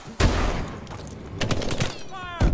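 Shotgun blasts in the video game Call of Duty: Advanced Warfare: three sharp, heavy booms spaced about a second apart, with brief game noise and a voice in between.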